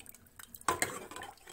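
Water poured into a pot of thick sambar, preceded by faint clinks of metal cookware, then a sudden splash and short liquid pour that fades over about a second, quiet and close.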